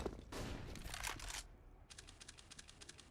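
A quick burst of Tech 9 pistol shots in Counter-Strike, crisp and fairly close, followed by a rapid string of lighter, faint clicks and taps.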